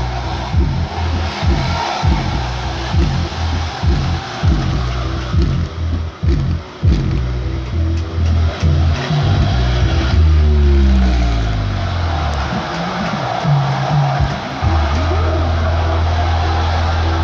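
Music with heavy, booming bass thumps pumping through a homemade subwoofer box in a steady beat, loud and close, the low end rumbling strongly with a faint wash of higher sound above it.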